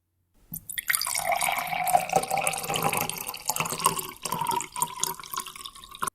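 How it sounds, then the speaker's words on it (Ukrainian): Vinegar pours steadily through a funnel into a narrow bottle, a gurgling stream whose pitch rises as it fills, close by with no talking. "Беремо третю пляшку та обережно наливаємо"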